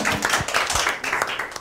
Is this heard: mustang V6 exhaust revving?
no